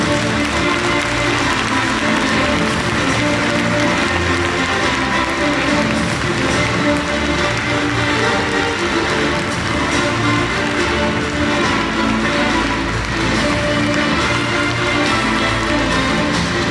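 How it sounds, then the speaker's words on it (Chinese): A large audience claps warmly to welcome a speaker at a business testimonial convention in Taipei's TICC hall. The applause is dense and loud and holds steady throughout, with no voices on top. "让我们用热烈的掌声欢迎我们的荣誉飞马李桂山一环进金莲"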